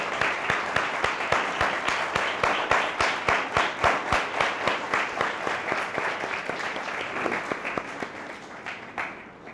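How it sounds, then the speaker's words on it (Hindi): A church congregation claps loudly at a Sunday service, sharp individual claps building into a dense, rhythmic round of applause that holds steady for several seconds and then thins out. "हम रूहुल कुद्दस के लिए भी, हॉली स्पिरिट के लिए भी जोरदार तालियां बजाएंगे।"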